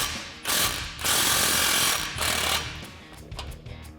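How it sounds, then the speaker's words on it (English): A ratchet with a 15mm socket snugs down a clamp on a Roush single exhaust system for a Ford F-150, giving loud bursts of rapid clicking in several separate runs, close by with no talking. "now we can slide our clamp into position and loosely tighten that down with a 15mm socket"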